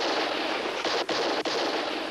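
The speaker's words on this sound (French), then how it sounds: "arrêtez-moi donc ces coups de feu" Gunfire from a scene in a French TV crime film, a dense sustained burst of shots filling the whole moment with only brief gaps, loud and close with no talking over it.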